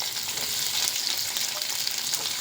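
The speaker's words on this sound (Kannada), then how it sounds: "ಸ್ವಲ್ಪ ಇದು ಫ್ರೈ ಆಗ್ತಾನೆ ಜಾಸ್ತಿ ಬಾಯ್ಲ್ ಆಗೋದು ಬೇಡ" Chopped onion and capsicum fry in a hot pan for a restaurant-style mushroom chilli, giving a steady, dense, close sizzle that holds even throughout with no talking.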